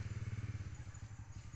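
Motorcycles pass by at a distance, giving a faint, pulsing engine putter with a rhythmic low thrum that fades slightly toward the end, heard over quiet rural surroundings.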